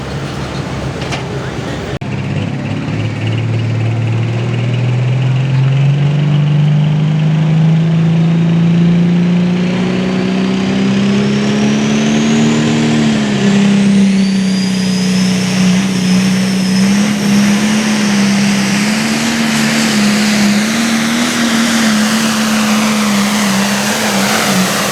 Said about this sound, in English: Folks, you heard Dylan working that throttle down on the starting line, trying to get all that horsepower to this Hillsboro track.